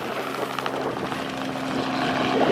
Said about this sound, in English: I ain't afraid of no helicopter.